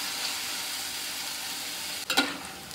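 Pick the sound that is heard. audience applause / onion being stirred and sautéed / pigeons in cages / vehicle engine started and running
onion being stirred and sautéed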